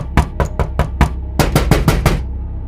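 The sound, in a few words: loud banging on a door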